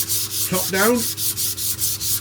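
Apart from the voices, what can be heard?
sanding wooden top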